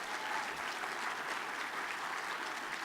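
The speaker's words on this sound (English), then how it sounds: "Can we do one more round of applause for Sam?" Conference audience applauding after a closing keynote at an arts marketing event, a dense, even wash of clapping heard from a distance and sustained throughout.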